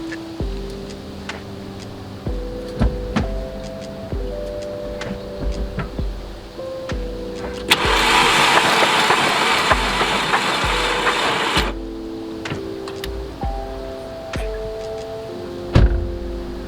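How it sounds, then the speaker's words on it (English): An engine with its spark plugs removed and a stuck-open fuel injector spins on the starter in a steady whirring crank lasting about four seconds, preceded and followed by quieter clicks and mechanical ticking. "Went ahead and cranked this without the no spark plugs."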